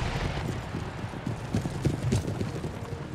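Cavalry hooves in the Empire Total War strategy game, including French cuirassiers, thud in a steady, overlapping clip-clop of many horses at a moderate distance for several seconds, with no speech.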